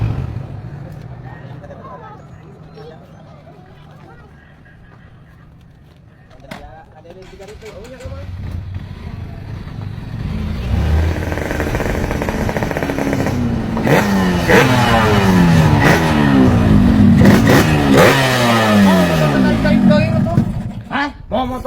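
A motorcycle engine revving on a public road, rising from a low idle to loud, sustained throttle bursts over about ten seconds, with voices talking over it.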